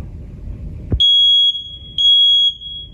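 Two long, piercing smoke alarm beeps, each about half a second, sounding a second apart after a brief thump, loud and close in a quiet room of a house.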